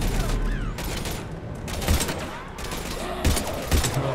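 Rapid gunfire in the video game Mass Effect 3, with sustained bursts and sharp shots over a dense combat din, loud and close, and a voice heard faintly in the mix.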